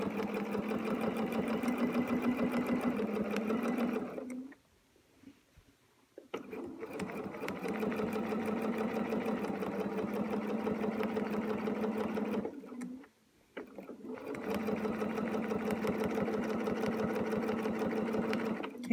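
A sewing machine runs in long fast stitching runs, a steady close whirring hum broken by two short pauses where it stops, then starts again.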